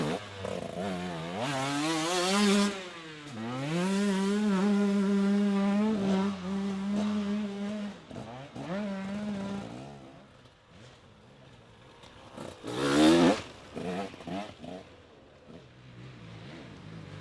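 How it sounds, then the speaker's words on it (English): A 2-stroke KTM dirt bike ridden by a youth-class rider at a motocross final, its engine screaming as it is held at full revs in long buzzing bursts, then dropping away before a brief sharp rev returns. "here we have Tom Knight in the youth class, who was on good form on the 2-stroke KTM"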